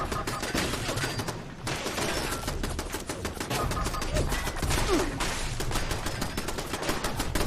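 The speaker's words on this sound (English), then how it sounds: "you can start shooting now" Sustained rapid gunfire in the Fallout 76 video game, dense automatic bursts rattling continuously and loudly with barely a pause, one brief lull early on, no voices over it.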